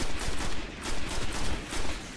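Rapid gunfire from the Destiny video game, a dense run of overlapping shots fired at enemies, loud and steady across the whole stretch with no talking.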